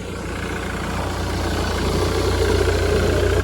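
A Jaguar engine turns over and settles into a steady, loud idle on the first turn of the key, a continuous low rumble that builds slightly and then cuts out at the end, with no talking.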